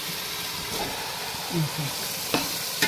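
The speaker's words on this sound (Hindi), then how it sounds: "2-3 मिनट के लिए इसको मैंने भूनना है कि मसाला अच्छी तरह इसके साथ चिपक जाए" Masala gravy with kidney beans fries steadily in a pan, giving a soft continuous sizzle. A few brief stirring scrapes and clinks rise above it, and one ends the clip.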